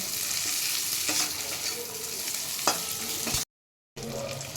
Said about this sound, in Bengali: এগুলো ঘিয়ের মধ্যে একটু ভাজা ভাজা করে নেব।